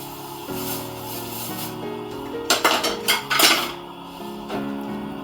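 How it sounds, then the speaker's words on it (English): Beans tossed with salt, a seasoning cube and habanero pepper in a bowl, producing a quick burst of clattering, scraping utensil-on-bowl sounds in the middle, with quieter tonal background before and after. "Mix it up so that the ingredients will go round."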